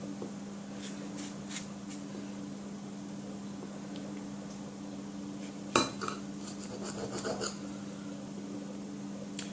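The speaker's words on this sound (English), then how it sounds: "so we are cutting up the vegetables. Tomatoes first." A knife slices tomatoes on a cutting board, making scattered scraping cuts and light taps close by with one sharper knock midway. A steady low hum runs underneath, and no one speaks.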